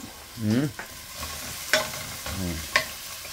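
Chopped onion and garlic sautéing in hot olive oil before beef goes in, a close sizzle broken by a few sharp spatula scrapes and stirs.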